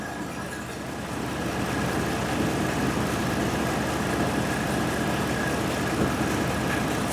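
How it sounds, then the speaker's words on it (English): A 2013 Ram 1500 4x4 with the 3.6 engine runs steadily with its cooling fans on, a continuous mid-level whir and hum with a faint tonal whine, holding even throughout. "Cooling fans just came on."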